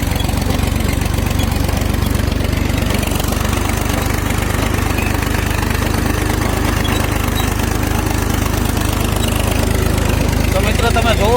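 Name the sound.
tractor engine running in first gear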